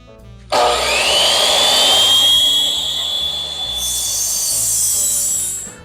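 A power saw cuts a 44-length piece for a surfboard coffee table. It starts abruptly in a loud, sustained, high whine that holds steady for about five seconds, changes tone partway through, then stops.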